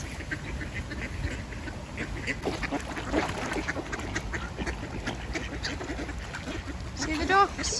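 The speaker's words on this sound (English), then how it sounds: "See the ducks?" Ducks quack in a park amid outdoor background noise, with scattered calls throughout and a short clearer burst near the end.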